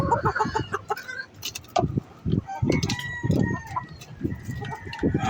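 Several hens cluck in short bursts close by in their coop, while a rooster crows in the background amid scattered farmyard noise.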